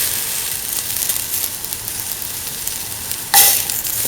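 Garlic and red chili frying in hot oil in a pan, a soft continuous sizzle with a brief louder hiss and clatter near the end, no talking.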